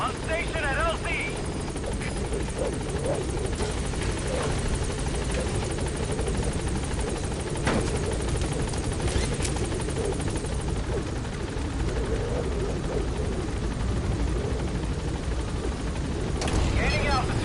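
Helicopter in the Metal Gear Solid V video game, a continuous loud rotor thump and engine roar throughout, with a radio voice talking over it.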